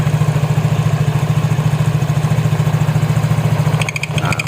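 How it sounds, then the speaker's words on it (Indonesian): Loud, close scooter engine idling with a steady rapid thumping pulse while its rear drive belt and pulley are being replaced, a brief metallic rattle near the end. "ini posisi motor hidup, tapi ini nggak bisa jalan ya"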